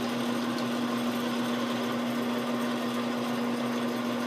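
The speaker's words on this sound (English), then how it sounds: "as I get towards the end of the ball end mill, it will no longer do that. You can hear it start to squeal" A ball end mill cutting metal while fabricating a J5 neck ball cup, giving off a steady, continuous high-pitched squeal with a strong sustained tone and broadband machining noise, close and alone with no voices.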